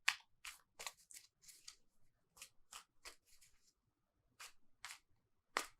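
Tarot cards shuffled by hand in a quiet room, a string of crisp riffling bursts at irregular intervals with short pauses between them, close and fairly soft.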